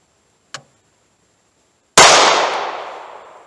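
A single loud shot from a .38 Special snub nose revolver, a sharp crack with a decaying echo, preceded by a faint short click.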